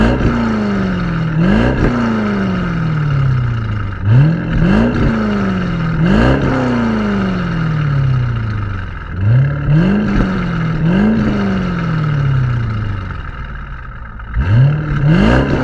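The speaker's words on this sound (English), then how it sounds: "I'll give some clips of the exhaust now." A 2002 Chevrolet C5 Corvette with a modified, drilled-out exhaust revs repeatedly, each throttle blip rising sharply and falling away in a steady series of loud, close blasts with deep burbling between them.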